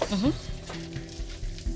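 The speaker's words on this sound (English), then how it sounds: "here, I'm actually just frying the arrowroot." Arrowroot sizzles and crackles steadily as it fries in hot oil, close by, with a short burst of voice at the very start.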